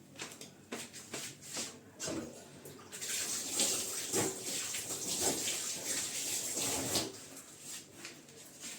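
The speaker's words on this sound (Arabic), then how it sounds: "شوف اغسل ايدي" Hands being washed under a running kitchen tap while making ammonia biscuits, starting with irregular splashes and clatter, then a steady louder stream of water with rubbing and splashing close by.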